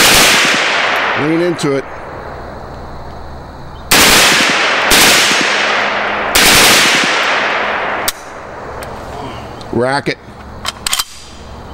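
A transferable M-2 carbine fires several loud, close bursts of full-auto gunfire that echo and decay, separated by pauses. Voices speak briefly between the strings of shots.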